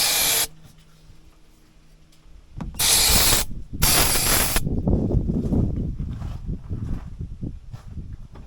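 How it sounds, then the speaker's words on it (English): Starting spray squirts into an old truck engine in three short, loud hissing bursts separated by brief gaps, followed by a lower rumbling, sputtering churn. "And then I just squirt a little bit of this stuff right in there."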